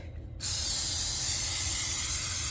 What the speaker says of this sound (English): I'm going to take some non-stick spray and I'm going to spray this